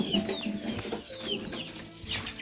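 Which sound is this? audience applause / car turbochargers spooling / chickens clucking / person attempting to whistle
chickens clucking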